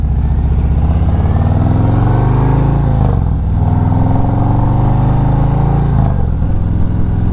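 A performance-tuned 2020 Harley-Davidson Electra Glide idles loud and close, its big V-twin engine giving a steady, lumpy, throbbing rumble with slight wavering pitch and no voices.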